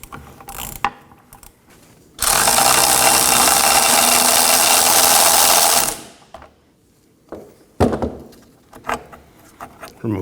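A ratchet wrench backs out a 19mm bolt from the rear trailing arm mount of a 2018-2024 Toyota Camry, a loud, close, rapid clicking run lasting several seconds, framed by scattered tool clanks.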